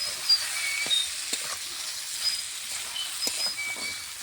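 Spice paste being fried down in a pan for a mutton curry, giving off a steady, moderate sizzle and hiss with occasional soft stirring scrapes and no voices.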